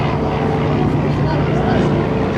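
Warbird propeller airplane taking off at an air show at Culpeper, a dense, steady broadband engine roar with a low drone, loud and continuous throughout.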